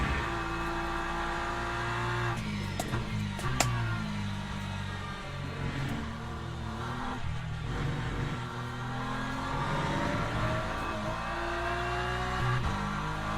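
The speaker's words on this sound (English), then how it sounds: "Bit of wheel spin." Le Mans Ultimate race car engine revving hard with wheel spin while warming its tyres, a steady loud drone with rising and falling pitch sweeps and no talk over it.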